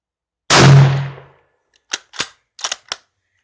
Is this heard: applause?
no